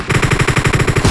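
A short, loud burst of M762 rifle fire in BGMI, evenly spaced rapid shots rattling close up with no voices.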